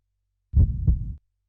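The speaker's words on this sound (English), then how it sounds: "Showing me the location with several heartbeats" A heartbeat sound effect from the video game Resident Evil Outbreak: a single deep, muffled double thump, short and isolated against silence.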